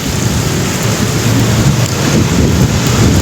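Heavy rain pours down in a dense, loud, continuous roar with deep rumbling underneath, unbroken and close around the listener.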